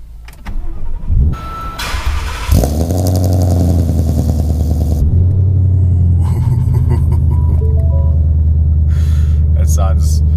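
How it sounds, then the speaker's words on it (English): A supercharged widebody Mustang V8 cranks and fires up, settling into a loud, deep, throaty idle rumble close by, with voices and chatter around it. "First starts in the supercharged Mustang."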